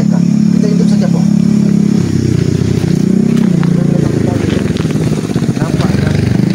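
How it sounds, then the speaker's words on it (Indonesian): Motorcycles passing along a busy road, a loud close rumbling engine drone that rises and falls with revving, heard under talking voices. "Tapi ini ada suara motor lewat."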